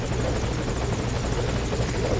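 A helicopter waits at a landing zone in the video game Ground Zeroes, its rotor chopping in a loud, steady, close whir with no voices.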